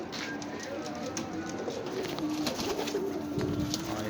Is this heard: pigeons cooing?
yes